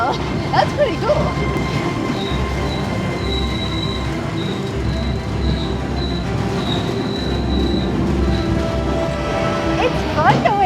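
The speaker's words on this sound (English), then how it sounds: "Did you know that this train can go 90 miles an hour?" Riding a dinosaur-themed train in Georgia at about 15 miles an hour: a steady low rumble of rolling cars, with long thin wheel squeals running over it and faint voices in the background.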